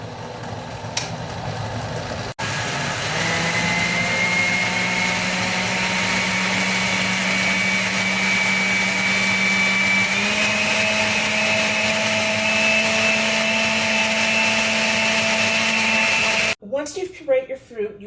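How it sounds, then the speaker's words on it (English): A blender pureeing pineapple and berries whirs steadily for about fourteen seconds, its motor pitch shifting upward partway through, before stopping abruptly as a voice resumes. "I've tossed my pineapple in the blender."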